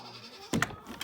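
Goats on a family farm, heading to a grandmother's barn, let out a short nasal bleat close by, followed by a fainter second call, with a quiet background and no speech.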